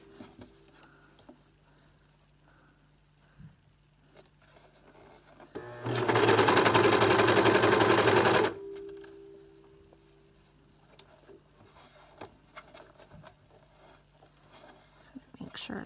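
A sewing machine stitches elastic onto the leg hole of a gymnastics leotard in one fast, loud, rapid-fire burst of about three seconds, set between quiet stretches of soft handling noises.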